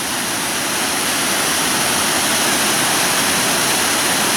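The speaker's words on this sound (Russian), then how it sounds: "Наконец добрались до первого из Усть-Сахрайских водопадов." Sakhrai waterfall on the Sakhrai river near Ust-Sakhrai, Adygea, a loud, steady broadband roar of falling water heard up close, constant throughout with no voices.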